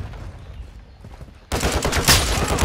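Sniper rifle fire in the video game Modern Warfare II on PS5: a quiet lull broken by a sudden, loud blast that rolls into dense, sustained gunfire.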